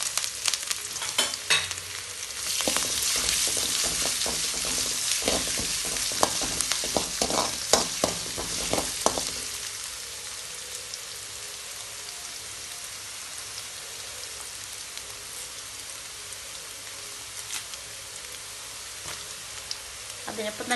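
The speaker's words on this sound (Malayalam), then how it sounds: "കടുക് പൊട്ടിയതിന് ശേഷം ഇഞ്ചി ഇട്ട് കൊടുക്കാം കേട്ടോ" Ginger pieces sizzling in hot coconut oil with popped mustard seeds for a garlic pickle, a dense crackling hiss with a burst of sharp pops and stirring in the first half that settles into a steadier, softer frying hiss.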